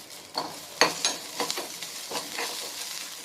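Peeled small onions and garlic fry in a pan with a soft steady sizzle, broken by scraping and clacking from stirring at irregular intervals.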